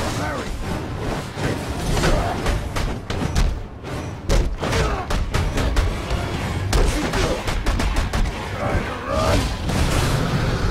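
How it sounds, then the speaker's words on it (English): Explosions, impacts and combat effects from Batman: Arkham Origins, including a propane tank blown up by a thrown batarang, sounding as a dense run of loud thuds and booms over busy game noise, with a voice talking. "I should be able to throw my batarang and blow that propane tank up"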